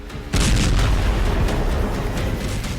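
Iranian missiles striking Israel erupt in a sudden loud blast after a brief lull, followed by a sustained roar of rumbling explosions and crackling bursts that continue steadily to the end.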